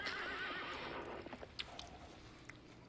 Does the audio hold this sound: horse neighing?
yes